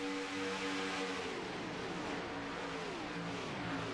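Race cars roaring along the backstretch at Talladega during the NSRA Talladega 200, engines loud and close with a sweeping pitch drop as the pack passes.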